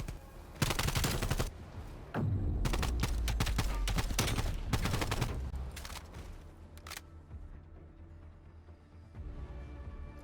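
Gunfire in Call of Duty Black Ops Cold War during a 4v4 CDL variant match comes in loud repeated bursts of shots and rapid volleys across the clip, with a brief lull between groups.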